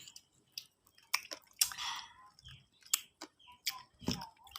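Someone chewing juicy bilimbi fruit mixed with crunchy roasted rice, giving close, wet, irregular crunches and squishes with short pauses, heard alone and up close.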